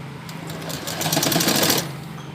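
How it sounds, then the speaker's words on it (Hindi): A sewing machine runs in one short, steady burst of rapid stitching on box pleats of a baby skirt, loud and close, starting and stopping cleanly with no talk. "अब इसको हम सिलाई लगाएंगे फ्रेंड्स"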